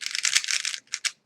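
A lubed Type C speed cube is turned quickly, a close run of dense plastic clicks and rattles that ends in two short separate turns.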